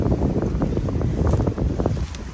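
Strong wind from Tropical Storm Debby in Florida roars steadily and loudly across the microphone, gusting and buffeting without pause.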